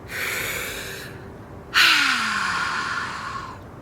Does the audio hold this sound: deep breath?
yes